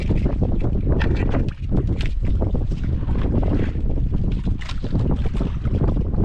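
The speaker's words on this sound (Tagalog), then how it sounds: "Medyo malakas ang hangin." Strong northeast monsoon wind blows at sea around fishing boats, a loud continuous roar of gusts and buffeting with churning water, close and steady throughout.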